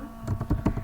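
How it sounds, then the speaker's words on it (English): A short burst of keystrokes on a computer keyboard while entering spreadsheet data in Excel, several quick taps in an uneven rhythm, close and fairly quiet. "I am typing subject 2, subject 3, subject 4"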